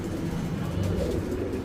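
Lahori pigeons coo in a steady, continuous low murmur at a pigeon seller's, several birds close together producing a dense, even rumble with no clear gaps.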